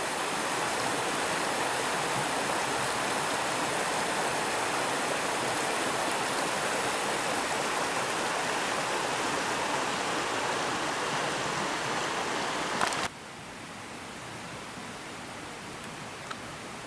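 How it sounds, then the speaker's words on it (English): A small waterfall on a stream in a nature reserve rushes continuously, a loud, close, steady wash of falling water that drops slightly in level near the end. "Another little waterfall."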